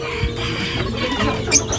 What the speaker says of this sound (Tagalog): Kadami na palang manok ngayon dito na maliliit, oh.